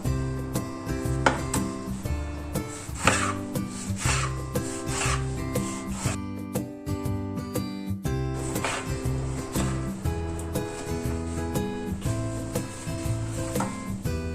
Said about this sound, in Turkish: Kabuklarını soymuş olduğum domatesleri doğrayalım.